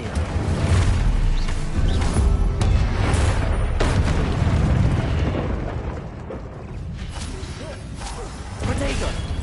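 Bursts of magical fire from the Incendio spell in Hogwarts Legacy on PS5, mixed with other spell blasts: repeated whooshing booms and crackles over a rumbling battle bed, with an occasional voice calling spells.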